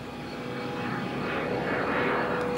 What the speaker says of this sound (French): Eh ben voilà l'avion.